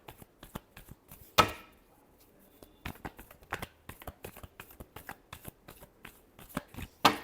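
Tarot cards being shuffled by hand in a quiet room, a rapid series of crisp riffles and snaps in bursts with brief pauses between, close and fairly soft, with no talking.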